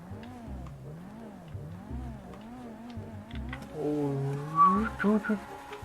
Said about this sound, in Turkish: arabanın egzoz sesini de isterim arkadaşlar